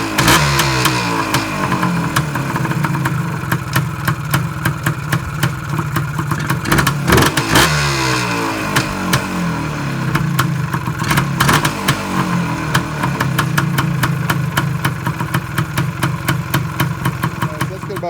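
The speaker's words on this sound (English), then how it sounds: "So I'm going to start the bike up, run it through a couple heat cycles." A 1977 Suzuki TS250 motorcycle engine runs loudly and close with a rapid, popping two-stroke beat, steady idle broken by occasional revs for about eighteen seconds.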